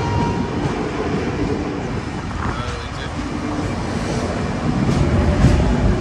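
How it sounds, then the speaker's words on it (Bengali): Tourist special train with a Vistadome coach on the NJP to Alipurduar route, departing and rolling along: continuous close rumble and rattle of the carriage, swelling slightly louder toward the end. "ট্রেন ছেড়ে বেরিয়ে যাচ্ছে"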